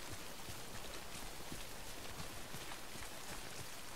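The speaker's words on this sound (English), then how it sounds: "Well, how the hell do I get out of the rain?" Steady, hissing timefall rain pours down in Death Stranding, a dense, even patter of drops that stays constant throughout, loud and close with no voices over it.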